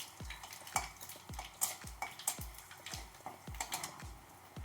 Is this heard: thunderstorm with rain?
no